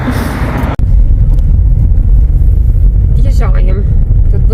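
A car drives along a road, heard from inside as a steady low engine and road rumble that persists after a brief sharp break, with faint voices in the background.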